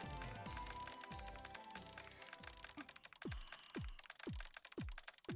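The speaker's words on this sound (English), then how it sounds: "Dude, she's typing fast." Rapid keyboard typing from the video game Trails From Zero: a quick run of crisp, close key taps, first over soft game music, then as sharper, separated clicks toward the end.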